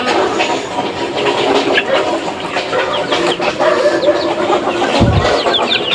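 Young chicks on a Filipino backyard farm give a steady mass of soft clucks and peeps throughout, close and continuous, with a brief low thump near the end.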